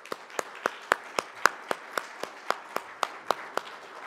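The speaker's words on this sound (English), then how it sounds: "So again, round of applause for Brenda." A small audience claps for Brenda at a leadership event, about fifteen single, sharp, evenly spaced claps heard close and moderately loud, like one or two people applauding steadily rather than a full crowd.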